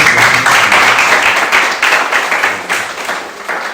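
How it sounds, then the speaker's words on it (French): A church congregation claps to welcome guests, a steady mass of hands at moderate distance, with the applause continuing evenly for a few seconds. "On peut les applaudir pour les accueillir."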